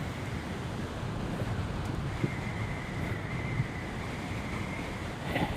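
Strong wind roars steadily into the microphone outdoors, a loud continuous rumble with a few brief knocks and no talking.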